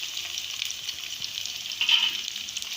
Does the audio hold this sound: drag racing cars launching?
no